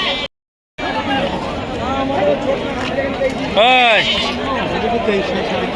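Goats and kids bleat amid the bustle of the Beldanga livestock market, with one loud wavering bleat near the middle standing out over constant crowd chatter and nearby talking.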